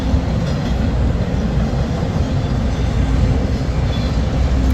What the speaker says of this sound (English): this train is heading east on what was the former C&W main line